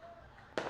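Fireworks at a Ganesha farewell celebration pop in a single sharp, loud burst that rings out briefly over a low murmur of background noise.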